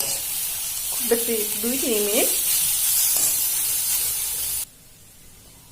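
Grated carrots for halwa fry in a pan with a steady hiss and stirring noises. A voice speaks briefly partway through, and the sizzle stops abruptly near the end.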